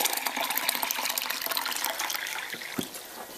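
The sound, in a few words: measuring cup being filled with tap water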